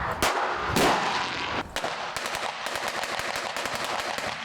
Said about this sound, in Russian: В ходе учения используется светошумовая граната.